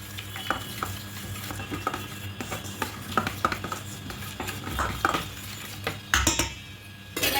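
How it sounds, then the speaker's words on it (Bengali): Oil being stirred into sago dough in a bowl, with irregular soft scraping and clinking of a utensil against the bowl and a steady low hum behind it. "এবার এখানে সাদা তেলটা দিয়ে দেবো খুব ভালো করে মিক্সড করে নেব"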